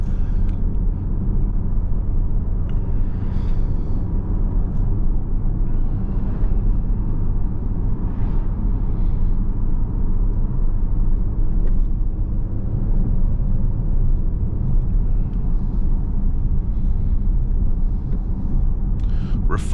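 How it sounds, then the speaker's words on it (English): Steady low road rumble with a light wash of wind fills the cabin of a 2023 Porsche Panamera Platinum on relatively aggressive tires, continuous and moderately loud, with faint occasional talk underneath. "There is a little bit of wind noise. Not too much tire noise"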